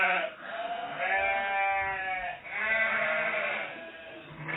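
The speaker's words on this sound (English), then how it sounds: "I am going to play you the sound of some sheep that I have recorded earlier on in the field next to my house" Sheep recorded in a field beside a house, bleating in two long wavering calls with a shorter one at the end, loud and close, played back with a slightly narrow tone.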